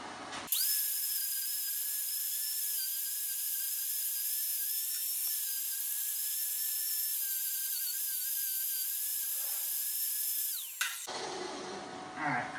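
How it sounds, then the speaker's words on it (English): Harbor Freight angle grinder in a welding and fabrication shop, running at a steady high-pitched whine for about ten seconds, then spinning down and stopping. "I hate these new triggers from Harbor Freight on these grinders."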